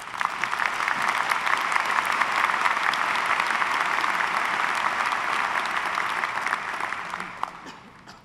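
Sustained applause from a commencement audience welcoming the speaker to the podium, a dense, steady wash of clapping that fades toward the end.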